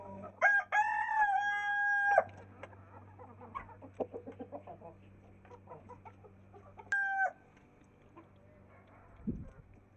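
Backyard chickens squabble. Hens cluck in short bursts, and a rooster crows loudly twice, with scattered scuffling noises in between.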